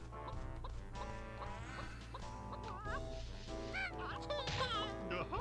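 A chicken clucks in the video game Banjo-Tooie, a series of loud, close squawking clucks with pitch-bending honks over steady game music.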